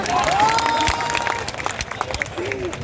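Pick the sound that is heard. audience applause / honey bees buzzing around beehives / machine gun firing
audience applause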